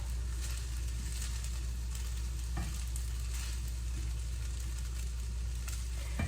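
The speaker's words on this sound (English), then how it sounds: "I'm cooking this vegetable fried rice" Vegetable fried rice sizzles steadily in a pan while being stirred, with a constant loud frying hiss and occasional scraping stirs.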